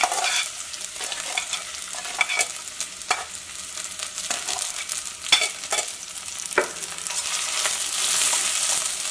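Onion, ginger and green chili fry in hot oil for an okra curry, a soft hissing sizzle broken by repeated spatula taps and scrapes against the pan, near and with no one talking.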